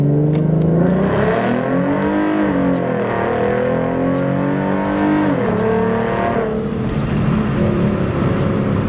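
Ford Mustang fitted with 3.73 gears accelerating hard from inside the car, the engine note climbing through repeated rising sweeps with gear changes, loud and close with no talking.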